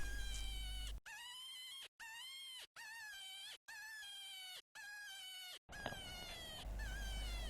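Two farm cats yowl at night in a series of six drawn-out, wavering meows, each close and clear with short gaps between, answering a rabbit distress call on a cold farm.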